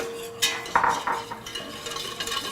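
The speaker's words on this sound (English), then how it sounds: "Once the butter is melted, it's time to add our flour and keep stirring, keep whisking." A whisk stirs flour into melted butter in a metal pan for a roux, giving a few quick scraping and clinking strokes up close with a soft sizzle underneath and no talk.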